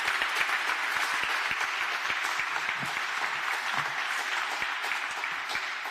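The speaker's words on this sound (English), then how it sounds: "You can give her warm applause, please." Warm audience applause at a formal EU ceremony on women's rights, steady dense clapping from a hall crowd sustained evenly throughout without talk.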